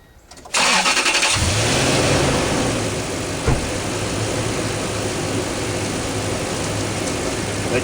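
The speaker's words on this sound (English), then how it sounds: "The truck is supposed to be running and warmed up." A 2003 Toyota Tundra truck engine cranks briefly, then catches and settles into a loud, steady idle with a brief bump partway through, close and continuous, with no talk.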